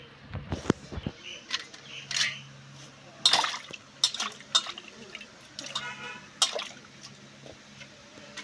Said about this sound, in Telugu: ఇలా పెట్టి వాటర్ పెట్టి ఇలా కడుక్కొని ఒకసారి ఇదంతా డస్ట్ ఏమైనా ఉంటే పోతుంది